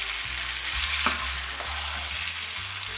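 Something frying over medium heat in a pan for Azerbaijani-style parda pulao, with a steady broadband sizzle and a few soft stirring scrapes near the start, continuous and close without any talk.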